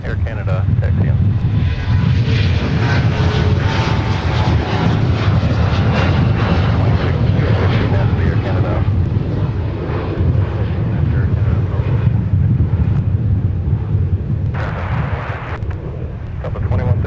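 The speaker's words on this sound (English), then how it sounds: "Catch the CRJ departing here." A CRJ regional jet departs Minneapolis–Saint Paul airport with a loud, sustained engine roar and rush that holds steady before easing slightly, with wind buffeting and radio chatter faintly present.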